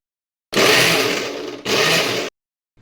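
A kitchen mixer grinds green chillies coarsely without water in two loud, close bursts, a long whirring run then a shorter one after a brief pause, with silence before and after.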